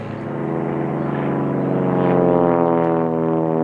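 Classic propeller airplane flying overhead, a steady loud droning engine hum with a strong rolling tone that swells slightly toward the middle and holds close throughout, no voices.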